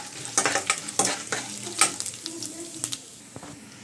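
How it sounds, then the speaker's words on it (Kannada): Chana dal and urad dal frying in hot oil for a beetroot palya, a close sizzle broken by irregular scraping and clinking strokes of a spoon stirring in the pan. "ಇದೊಂದು ಸ್ವಲ್ಪ ಲೈಟಾಗಿ ಕಲರ್ ಚೇಂಜ್ ಆಗೋಂಟ ಫ್ರೈ ಮಾಡ್ಕೊಳ್ಳೋಣ"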